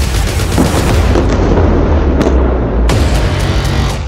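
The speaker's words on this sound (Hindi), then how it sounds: "उसके बाद एक और टैंक से गोला दागा जाता है। फिर स्क्रीन पर धमाके से कई इमारतें उड़ती नजर आती हैं।" Tank shell fire and explosions destroying several buildings during an Israeli army night attack, heard as a dense, continuous roar of blasts and gunfire with sharp bangs near the middle and end.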